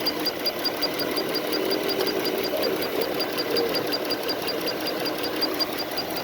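A 2016 Dodge Caravan engine idles with a light misfire, a steady close mechanical drone with a faint uneven ticking pulse running through it, no voices.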